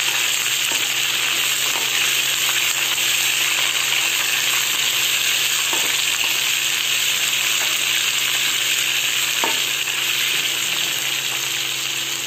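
Onions sizzle and fry in a hot pan for a wheat semiya upma with capsicum, a steady bright hiss running evenly throughout with a few faint stirring clinks and no talking.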